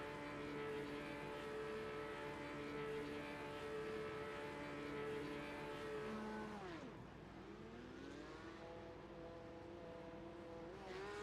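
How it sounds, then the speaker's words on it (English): Several racing cars in a racing video game held against the rev limiter, a dense, loud, steady drone of high engine harmonics that sags and then climbs again partway through, heard on its own. "You can hear the drivers on the rev limiter."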